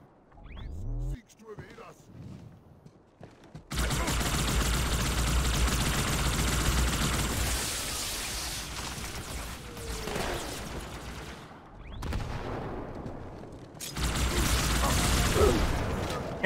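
Video game gunfire in Halo 2 Anniversary, with long sustained bursts of automatic fire and booms broken by short pauses and a few quieter gaps, loud and close throughout.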